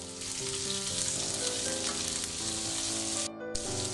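Onion frying in a pan for poori masala, a steady close sizzle with a faint background tone and a brief drop near the end.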